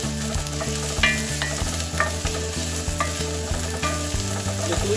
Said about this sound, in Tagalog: Lutuin lang natin yung onion natin at saka yung garlic